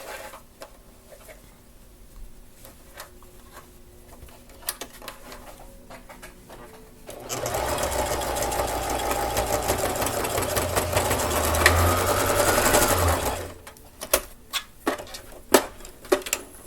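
A sewing machine stitches shoelace strings onto a dress in one steady, fast mechanical run of several seconds, close and fairly loud, with quieter handling clicks and taps before and after.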